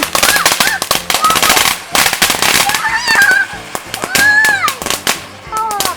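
Two fountain fireworks lit together at a night celebration, giving a dense run of sharp crackling pops and bursts with whistling streaks, loud and close, while people react and talk over the display.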